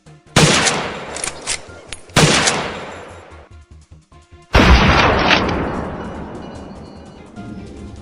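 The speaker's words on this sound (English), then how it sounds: "A swift, cold-blooded opening shot kicks off today's challenging hunt." Hunting rifle shots at wild boar fleeing across a field: three loud, close cracks a couple of seconds apart, each trailing off in a long rolling echo.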